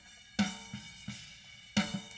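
Snare drum heavily crushed with a Decapitator distortion plugin, a few isolated hits with gritty, saturated cracks and short ghost strokes between them, close and dry with no speech.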